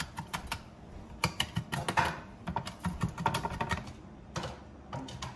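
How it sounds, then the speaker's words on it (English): Bacon being cut into small pieces with a knife for Russian kotleti, a rapid run of crisp, close tapping chops on a cutting board with short pauses between bursts. "bacon is being cut into small pieces"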